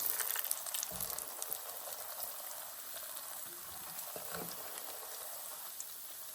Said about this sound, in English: you've got to make sure they don't stick to the frying pan